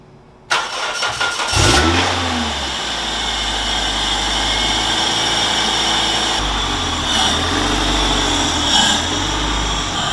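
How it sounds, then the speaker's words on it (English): Toyota MR2 Spyder with a swapped 2ZZ engine cranks briefly and fires up, then settles into a steady, close idle with a few light revs, with no one talking. "Now we're going to be starting the engine to make the fluid go all over the place."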